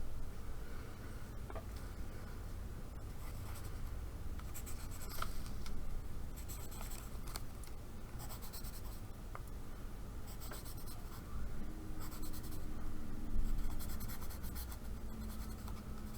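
Pencil writing on paper, close and quiet, a continuous soft scratchy rustle broken into short strokes and bursts with small pauses between words.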